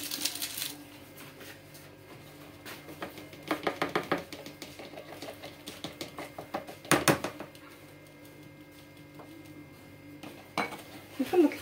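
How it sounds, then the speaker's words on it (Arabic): Cake batter for a no-bake cocoa and chocolate cream cake is mixed in a bowl, with clattering, clinking strokes of a utensil against the dish in uneven bursts, near and fairly quiet. "نخلط الخليط ديالي هكا."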